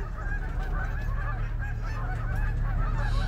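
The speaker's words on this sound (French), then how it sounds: "une oie des neiges de forme sonde, appelée une oie bleue" A blue-morph snow goose honks repeatedly in nasal, clipped calls over a steady low rumble, close and fairly loud, with no talking.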